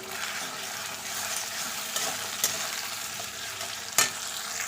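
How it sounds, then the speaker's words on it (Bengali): Steady sizzling of potatoes and jackfruit seeds frying in oil, with occasional scrape and clatter of stirring, close and fairly quiet. "এগুলো আলুর সাথে একটু ভাজা ভাজা হয়ে যাবে"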